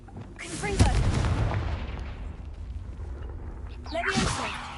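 Confringo fire-blast spell exploding in Hogwarts Legacy: a heavy, rumbling boom that swells and fades, then a second blast follows a few seconds later, with a voice speaking over it.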